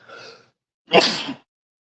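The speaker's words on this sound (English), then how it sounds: "Got a sneeze coming on." A single human sneeze, a short breathy intake followed by a sharp, loud burst, close and alone with silence around it.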